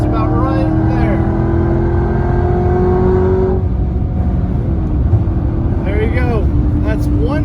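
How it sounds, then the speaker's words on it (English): A Lamborghini Huracan Performante's engine is pushed to full throttle, loud harmonic revving climbing steadily before dropping off as a gear changes and the engine note settles back, with a voice talking over parts of it. "now I think I can get eventually to full throttle"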